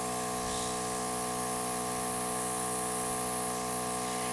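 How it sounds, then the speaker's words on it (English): An airbrush spraying alcohol ink at medium pressure, around 15-20 PSI, gives a steady, close, loud hiss that runs unbroken throughout with a faint machine hum beneath. "I only have my airbrush on medium"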